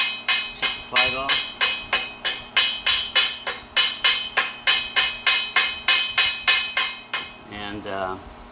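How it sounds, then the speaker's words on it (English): A hammer chips slag off a fresh weld bead on a field solar array frame, striking in a steady run of about twenty sharp, ringing metallic taps, close and loud, before a brief pause and a short voice at the end. "we chip that off. There you go. See it coming right off there? Yeah. Chip the slag off."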